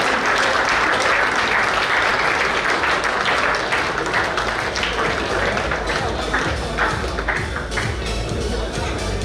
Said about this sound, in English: Big round of applause for the MWCC lifers.